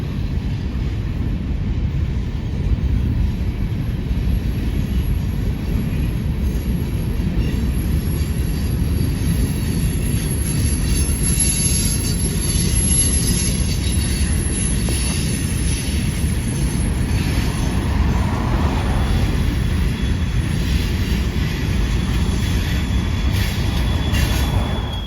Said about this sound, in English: BNSF high-cube boxcar. And then a Union Pacific high-cube boxcar.